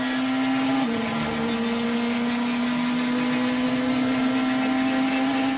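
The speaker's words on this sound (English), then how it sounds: "That was a highly revving Porsche going through the first corner" A steady, loud race car engine drone from a highly revving Porsche at Silverstone during 2014 WEC qualifying holds a constant pitch throughout, with a slight dip near the start and no speech.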